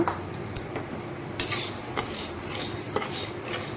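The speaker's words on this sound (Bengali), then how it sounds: "ডালটাকে একটু আমি ভালো করে ভেজে নেব" Mung dal is dry-fried in a pan over a gas flame while a utensil stirs it, giving soft continuous sizzling with repeated scraping and clinking strokes against the metal, up close and without speech.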